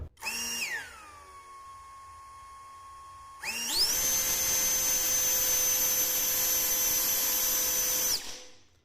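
A Jet Fan Turbo Brushless LXT 20V air blower heard up close: a whine that rises, settles into a steady tone, then climbs to a much louder, higher, sustained scream before cutting off.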